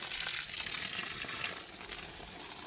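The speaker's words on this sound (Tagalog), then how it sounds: "Ngayon, dagdag tubig tayo." Water poured steadily onto potted garden plants, including a bay laurel, in a home food garden, a continuous close splashing and trickling wash with no talk.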